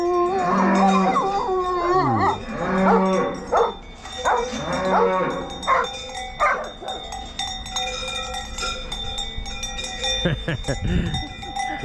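A cow in an Aosta Valley alpine pasture moos loudly and repeatedly in long drawn-out calls while dogs herd it, with cowbells clanking, a dog barking briefly and people talking near the end.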